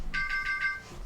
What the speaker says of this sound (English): Oh, that's my alarm.